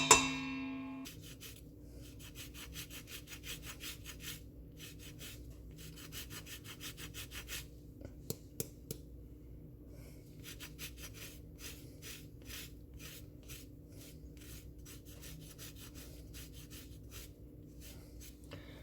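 Lemon zest is grated off a lemon for lemon cooler cookies, producing repeated dry, raspy scraping strokes in bursts, close and fairly quiet, with brief pauses and a couple of sharp ticks partway through.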